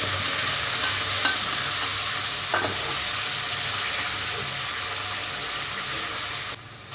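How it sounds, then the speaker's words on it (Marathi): Ground chili paste sizzles in hot oil for tempering, a loud, even hiss that stays constant, with a couple of brief clinks, before dropping off abruptly near the end. "तेल गरम झाल्यावर तिखट वाटलेलं ते बाजूला फोडणीला टाकतो"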